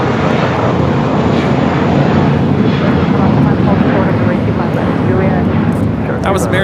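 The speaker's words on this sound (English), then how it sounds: "That was American Airlines 274 taking off to JFK on the A321" An American Airlines Airbus A321 takes off at LAX, a loud, continuous jet roar that stays strong throughout while voices talk over it.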